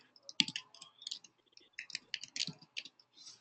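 Rapid, uneven key clicks of someone typing on a computer keyboard during a Slack messaging demonstration, close and fairly quiet, coming in short bursts separated by brief pauses.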